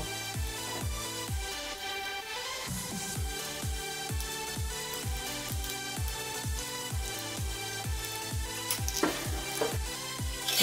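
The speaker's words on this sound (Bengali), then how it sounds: "আস্তে আস্তে করে আমি এখন এই পিসটাটাও ভাজা করব।" A piece of Mughlai paratha fries in a little oil in a pan, a steady close sizzle with dense crackling and popping running evenly throughout, no voices over it.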